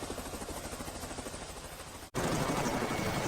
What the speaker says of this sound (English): The helicopter rocked into place on the pad.